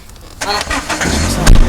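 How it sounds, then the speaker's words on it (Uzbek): A car engine with a knocking fault runs loudly after a quiet start, with an uneven rough rumble and a sharp knock near the end. "Taqillagan ovoz kelyapti."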